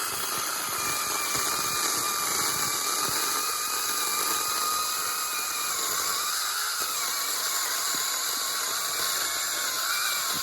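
A Seesii mini chainsaw cutting through an invasive tree, its small motor holding a steady high-pitched whine and buzz throughout, close and loud with no talking.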